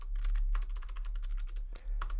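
Rapid clattering keystrokes on a computer keyboard while coding a CSS animated link, in bursts of close, crisp taps with a brief pause near the end.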